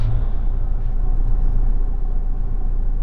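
Classic Ford Cortina rumbling past at a car show road, a loud, steady low engine drone close by with no break.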